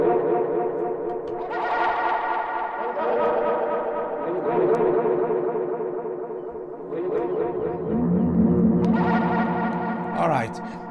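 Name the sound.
synthesizer delay effect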